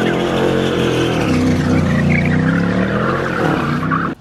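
Limited-edition car doing a burnout, a loud sustained engine roar with harsh tire squeal and skidding noise held for several seconds, close and dominant, cutting off abruptly at the end.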